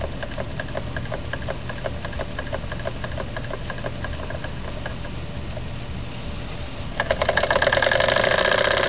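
A Jensen 25 model steam engine with a heavy flywheel runs at a steady, even rhythm of regular mechanical beats, close and continuous, with a hissier, brighter burst of noise joining near the end.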